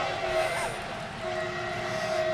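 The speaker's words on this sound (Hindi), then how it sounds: "जैसे ही मैंने पंक्ति पढ़ी वहां से दूसरी रेल आ गई थी।" A train arrives on the railway with a loud, steady rumble and sustained horn-like tones that drop out briefly before returning.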